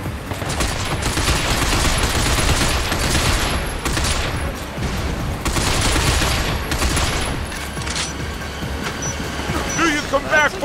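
Inaccurate automatic gunfire in Binary Domain during a sewer escape, long sustained loud bursts of rapid shots with short pauses between them, under continuous game noise and occasional voices.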